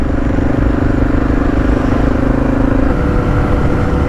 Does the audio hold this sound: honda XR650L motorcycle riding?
yes